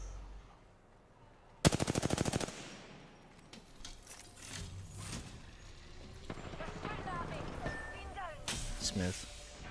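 Gunfire from Apex Legends: a loud rapid burst near the start, then scattered weapon shots and game effects over a steady background.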